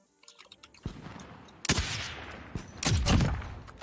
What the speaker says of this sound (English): I'm shooting towards behind me.